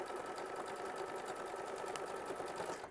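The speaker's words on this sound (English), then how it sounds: "it's also going to stitch the placement stitch for the first piece of applique" An embroidery machine stitching an applique placement line on a quilt block, a rapid steady needle rattle, fairly faint, running without pause for a few seconds.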